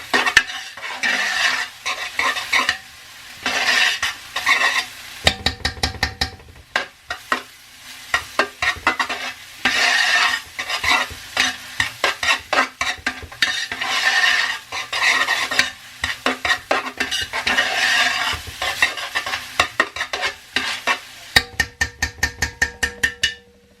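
A spoon scrapes and stirs pasta sauce with red pepper flakes in a pan, with repeated rhythmic scraping strokes over a steady sizzle. The strokes quicken into fast bursts in places, and no one speaks.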